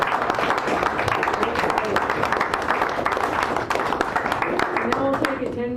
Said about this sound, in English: Let's have another round of applause for Zara.